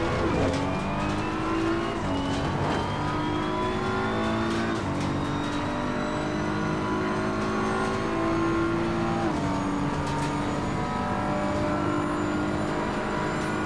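BMW M4 GT3 race car in Assetto Corsa Competizione, its engine loud and close throughout, revving up through gears with rising pitch and shift drops, braking and accelerating again with continuous roar and no talk.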